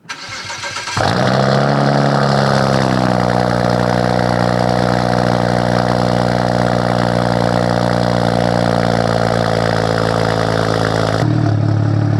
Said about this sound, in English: This is one of the best sounding exhaust systems I've heard for the N54.